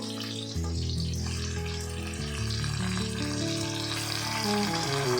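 Steady, loud sizzling of Rayalaseema-style chicken fry as washed chicken fries in hot oil in a pan, continuous throughout after a brief quieter start.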